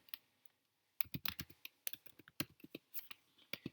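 Rapid taps on a computer keyboard, close and crisp in irregular bursts after a near-silent start, with no voices.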